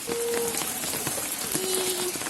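Rain patters steadily on a surface during a heavy storm, a close, continuous wash of drops with faint tonal hums briefly rising above it.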